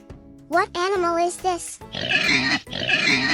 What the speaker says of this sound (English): Correct. It is a pig.